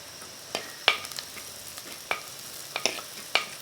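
Garlic and onion sautéing in a clay pot for prawn curry: a soft, low background sizzle broken by a handful of sharp spatula taps and scrapes at irregular intervals.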